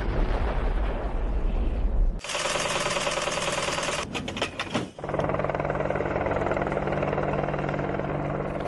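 An AH-64E Apache attack helicopter, a new Indian Air Force tank-killing gunship, thunders loud and close with a steady rotor and turbine roar, broken by abrupt shifts and bursts in the engine noise partway through.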